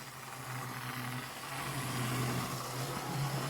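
A model train locomotive's small electric motor hums steadily and rises gradually in pitch and loudness as it accelerates, faint and close, with no voices.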